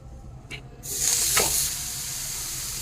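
Chana dal thalipeeth batter hits a hot griddle and bursts into a loud, steady sizzle after a couple of soft taps, the hiss holding strong to the end.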